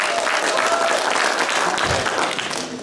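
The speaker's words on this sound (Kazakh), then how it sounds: "шапалақтаңыздар." A comedy festival audience bursts into loud, dense applause that holds steady for about three seconds before easing slightly at the end.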